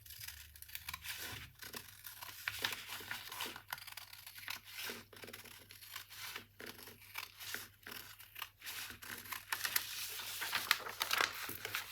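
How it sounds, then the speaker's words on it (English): Scissors cut around a paper skirt pattern, giving a steady run of close, crisp snips and papery rustling with no voices. "I'm just going to cut around that."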